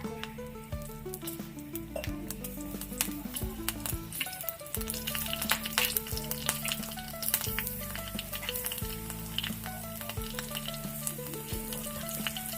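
Green chilies and cumin fry in hot oil in a pan for masale bhat, crackling and spitting in a dense, continuous close sizzle with sharp pops throughout, while a faint tonal hum runs underneath.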